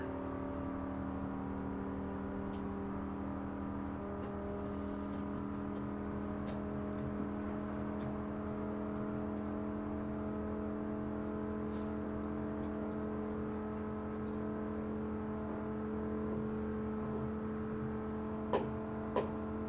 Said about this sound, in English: Sounds like this car has peaked.